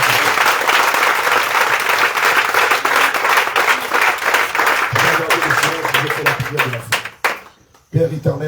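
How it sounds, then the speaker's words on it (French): A church congregation loudly claps and cheers in acclaim of Jesus, with voices shouting over the steady applause. The noise drops out briefly near the end before resuming. "Acclame fortement le nom."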